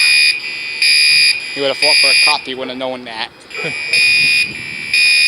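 A Spectre Alert Classic fire alarm sounds in a school band classroom, with loud, piercing, evenly spaced horn-like pulses repeating steadily while people talk between and under the blasts.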